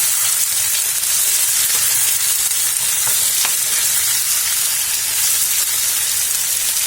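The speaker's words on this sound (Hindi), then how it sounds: "टमाटर डालेंगे। इसे भी मैंने रफली चॉप कर लिया है। इसे भी मिला लेंगे इस तरीके से।" Roughly chopped tomatoes stirred into paneer masala frying in a pan, giving a steady, loud sizzle with faint scraping stir sounds throughout, no talking.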